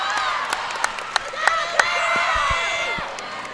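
Crowd cheering and shouting from a cheering section at the 2016 FCIAC cheerleading championships, a broad sustained roar of many voices with scattered whoops and claps, fairly loud and continuous throughout.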